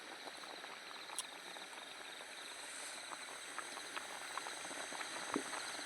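Potatoes simmering in a pot over an outdoor night cooking fire, giving a steady faint bubbling patter with small pops throughout, no talk.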